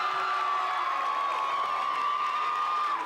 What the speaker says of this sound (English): this is the loudest I have ever heard a crowd in a 19 ball game